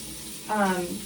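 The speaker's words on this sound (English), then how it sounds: "I'm going to turn on the water and get it hot" Hot water from a tap starting to run into a sink, a sudden rushing splash after a quiet start, close and moderately loud, continuing to the end.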